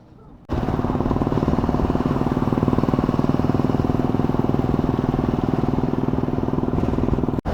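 A KTM 390 Adventure and a Hunter 350 motorcycle cruise along a road. The engine gives a steady, close, unbroken drone with a fine pulsing texture, starting abruptly after a brief quiet moment.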